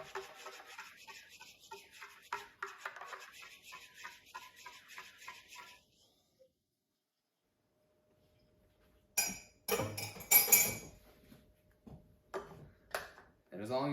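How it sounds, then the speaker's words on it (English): A spoon stirs a protein shake, making light, close ticking clinks against the container for several seconds, then a pause, followed by someone talking. "Let's give it a little stir."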